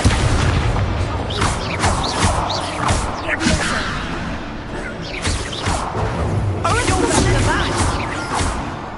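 The Incendio fire spell is cast in the video game Hogwarts Legacy, with repeated booming bursts and whooshes in dense, loud combat noise while a voice speaks over it.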